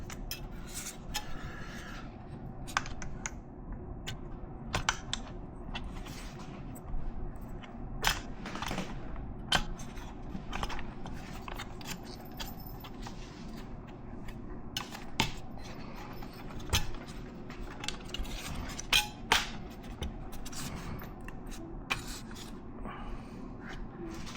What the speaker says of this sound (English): you've got these fuse looking devices that need to snap into these guys here